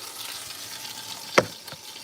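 Chicken pieces browning in a hot pan give a steady, low sizzle, broken by one sharp clatter and a smaller knock as they are moved.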